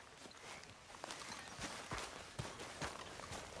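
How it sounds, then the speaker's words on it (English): Horse hooves clip-clop at a steady walking pace in the Red Dead Redemption 2 game world, fairly close, over a dense bed of outdoor ambience. "Grab your horse and let's go"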